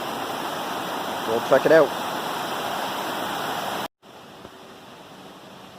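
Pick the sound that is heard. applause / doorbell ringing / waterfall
waterfall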